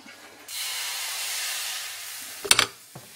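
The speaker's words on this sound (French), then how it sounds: "Une louche classique de taille moyenne et vous versez une louche dans la poêle." Crepe batter poured from a medium ladle into a hot pan sizzles in a steady close hiss lasting about two seconds, ending in a short burst of clatter and a soft knock.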